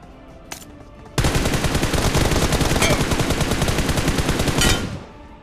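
Sustained burst of rapid automatic gunfire in PUBG, loud and continuous for about four seconds after a single earlier shot, with no talking over it.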